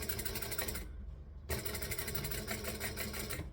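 A sewing machine runs in a close, steady burst of stitching, stops briefly, then resumes for a longer run of back stitching.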